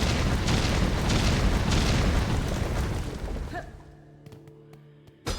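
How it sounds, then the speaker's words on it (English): Explosions in Silksong: loud rumbling blasts roll on for a few seconds, then fade into quiet electronic tones with a sharp final thump. "More explosions. Lots of explosions."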